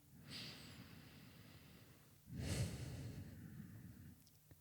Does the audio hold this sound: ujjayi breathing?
yes